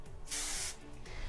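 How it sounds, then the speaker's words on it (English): A short burst of aerosol hairspray hisses close up for about half a second, then stops, leaving quiet room tone. "give it a spray with your hairspray."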